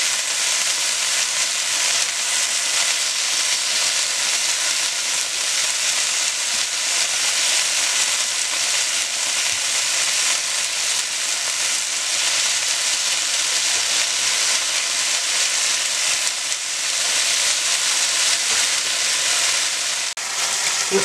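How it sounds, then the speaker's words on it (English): Beef sizzling steadily in a hot pan for pepper steak, a dense continuous frying hiss that stays loud and even throughout with no voices. "So we're gonna start flipping it over and let the other side fry."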